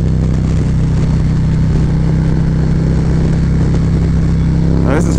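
Motorcycle fitted with a Screaming Eagle cam pulling through the gears, a loud, steady, deep engine drone heard from on board with heavy rushing wind, continuous throughout.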